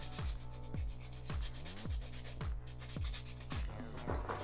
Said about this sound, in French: je prends mon bloc polissoir et je viens tout polir.